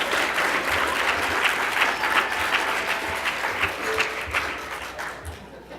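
Steady, full applause from an audience at a society meeting, a dense even patter of many hands that tapers slightly toward the end.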